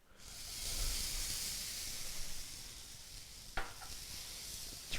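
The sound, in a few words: capers sizzling in a hot pan with fish juices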